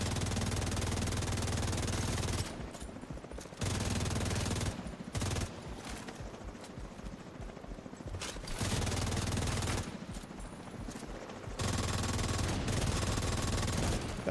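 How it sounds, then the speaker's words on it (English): Heavy sustained gunfire from The Division 2 video game, long bursts of automatic fire that cut out and resume in several loud stretches, with dense rattling textures between the pauses. "There's so many fucking bullets."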